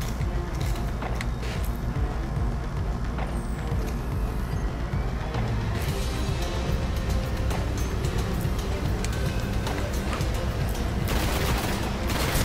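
Gunfire in Destiny, with dense rapid volleys of shots sounding continuously over a loud rumbling battle din, close and busy throughout.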